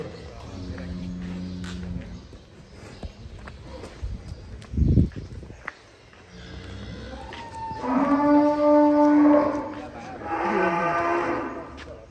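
Jumbo cattle at GST Farm, one weighing over a ton, letting out several long, deep moos, the last ones loud and drawn-out, amid farmyard background noise.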